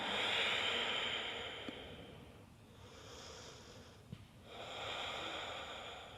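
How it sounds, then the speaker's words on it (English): Deep Ujjayi breathing during a vinyasa yoga class, slow airy inhales and exhales with a soft throaty hiss, close and quiet, rising and fading in long waves. "Deep Ujjayi breath"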